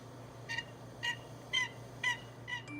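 A box call imitating a hen turkey's yelp, used for turkey hunting: five short, evenly spaced raspy notes about half a second apart, moderately loud and alone over a low steady hum.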